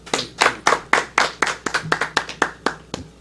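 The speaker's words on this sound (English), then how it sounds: "Let's give Brother Mr. Number a round of applause." Hands clapping in a round of applause for a speaker at a Nation of Islam temple meeting in Detroit, with fairly quick, uneven claps from a modest group, close and steady throughout.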